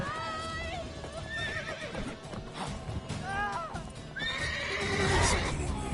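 Horses neigh and whinny repeatedly amid a tense scene. Several shrill, wavering whinnies come close and loud, joined by hoof clatter and a busy background.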